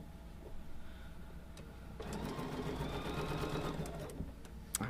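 Sewing machine stitching a scant quarter inch quilt seam, a quiet room before a steady mechanical whir starts at two seconds and runs for about two seconds, then tapers to a softer hum.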